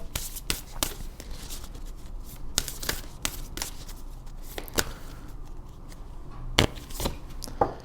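Tarot cards are shuffled by hand in rapid riffling and tapping bursts, a quick run of crisp clicks and slaps close by, with brief gaps between the flurries.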